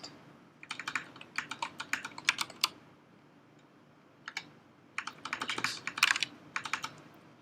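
Typing on a computer keyboard, close and crisp, in two bursts of rapid key clicks split by a short pause, with no talking.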